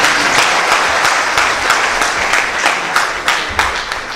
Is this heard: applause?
yes